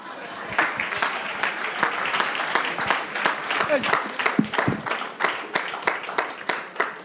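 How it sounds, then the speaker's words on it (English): An audience at a social development partnership summit applauds a professor, a sustained round of crowd clapping with distinct individual claps standing out, building and continuing for several seconds as voices murmur beneath. "Sure, another round of applause for Prof."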